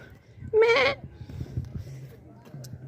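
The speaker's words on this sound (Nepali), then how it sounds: "हामी चाहिँ साथीहरू यहाँ गगनको बाख्रा फार्ममा आइसकेका छौँ" Single loud goat bleat at a goat farm, close and wavering, followed by quieter shuffling and faint background sounds.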